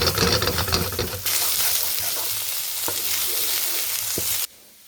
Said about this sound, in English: Shallots in. Posed still drinking, and green onions in.